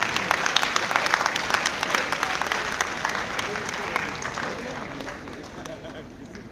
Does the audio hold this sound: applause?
yes